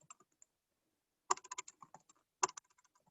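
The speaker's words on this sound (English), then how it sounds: "I'm having trouble typing today" Bursts of typing on a computer keyboard, two quick clusters of close, crisp key clicks separated by a pause, with a few scattered single taps and no talking.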